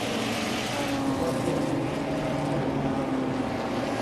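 A BMW M Performance Parts race series car dropping down the gearbox into turn 5 on a race circuit, its engine a continuous, moderately distant roaring drone with no clear breaks.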